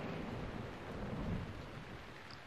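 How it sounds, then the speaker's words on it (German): A thunderstorm in Zelda: Breath of the Wild gives a dense, constant roar of rain with a low rolling rumble of thunder, loud and continuous with no talking. "Warum ist auf einmal jetzt wieder hier Gewitter?"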